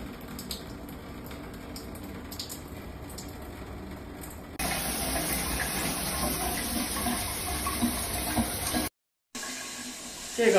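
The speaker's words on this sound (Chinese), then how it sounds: "淋浴漏水不止" Water runs nonstop from a faulty shower whose valve no longer shuts off, in a friend's home downtown. Steady hiss of flowing water throughout, growing louder partway in, with a brief dropout near the end.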